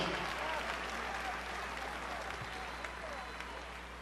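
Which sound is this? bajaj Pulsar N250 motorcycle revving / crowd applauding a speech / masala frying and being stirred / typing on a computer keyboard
crowd applauding a speech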